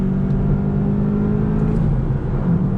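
A 2019 VW Jetta GLI, front-wheel drive, winds its engine out in second gear, a steady loud rising drone heard from inside the cabin with no talking.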